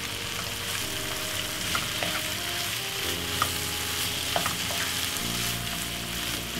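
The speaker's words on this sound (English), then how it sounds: "Just stir." Corned beef stirred with ketchup in a frying pan, a steady close sizzle with light scraping and occasional clicks of the spoon, no voices.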